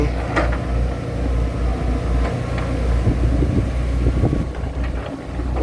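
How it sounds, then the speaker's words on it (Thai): Wind blowing outdoors in a steady, rumbling rush with low gusty buffeting against the microphone, continuous throughout with no speech. "ลมมาแล้วเว้ย"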